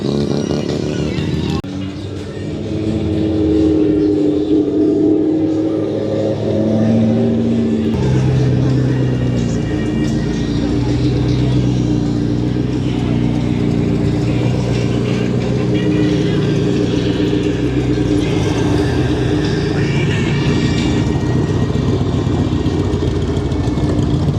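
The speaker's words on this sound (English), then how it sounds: "Rotary engine in a Suzuki, whatever the hell that is." Suzuki fitted with a swapped rotary engine idling at a cars and coffee meet, a steady close engine drone running throughout with people talking over it.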